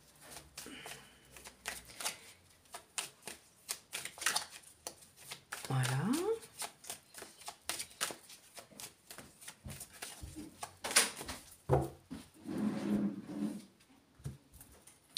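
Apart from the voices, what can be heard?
deck of tarot cards being shuffled and cut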